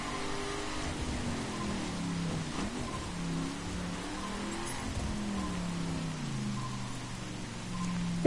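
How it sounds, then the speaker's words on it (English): Rain in the video game The Crew, a steady hiss of falling rain on a New York bridge, mixed with a low car engine drone that rises and falls throughout. "Oh, it's raining."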